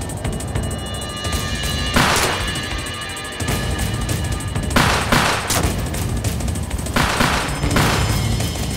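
A shootout in an Ottoman-era setting, with rapid volleys of gunfire cracking out in repeated loud bursts and a dense, rattling barrage that stops briefly and then resumes.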